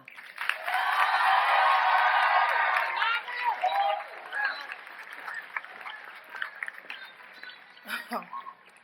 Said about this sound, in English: please give a round of applause to our class of 2021 salutatorian, Miss Alana Lozana